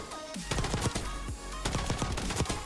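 The FENG 82 light machine gun fires without rapid fire in the Black Ops 6 video game, loud and continuous automatic bursts of rapid, evenly spaced shots rattling nonstop throughout.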